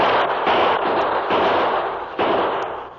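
Sustained gunfire effects from a radio drama Western shootout between outlaws and lawmen, a dense, loud crackle of repeated shots with several sharp bursts, with no voices.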